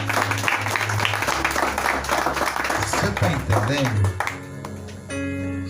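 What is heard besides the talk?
congregation applauding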